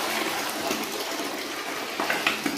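Water gushes and splashes as it is poured into a pig trough on a small farm, a continuous close pour with a few louder splashes near the end and no speech.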